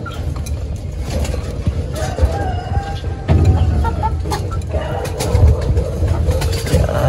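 Soft cooing of breeder pigeons with their young mixed with bird clucks and rustling, fairly close, continuing throughout with a busy background.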